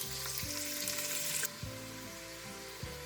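Pork fat and pork loin frying in a saucepan, a loud continuous sizzle that drops off sharply partway through and then carries on more quietly, with faint clinks and stirring.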